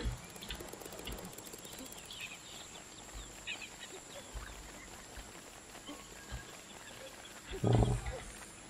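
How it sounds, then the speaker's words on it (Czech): Curious monkey from the video game Don't Starve: Shipwrecked, a short loud chattering animal cry near the end over a busy game soundscape of ambient noise and small effects. "Zvědavá opice."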